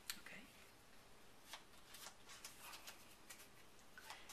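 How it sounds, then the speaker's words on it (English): Quiet, close shuffling of a small packet of playing cards, the four kings, during a card trick, with soft scattered riffles and snaps at irregular intervals and no talking. "I'm going to have you shuffle the kings."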